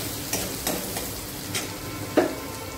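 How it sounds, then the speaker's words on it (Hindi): Cumin seeds and crushed garlic dropped into hot oil for an aloo bhindi lunch dish: a steady, close sizzle and crackle with a few soft stirring scrapes and clinks, no talking. "अब मेरा तेल गर्म हो चुका है, अब मैं इसमें जीरा डालूंगी और थोड़ा सा लहसुन डालूंगी।"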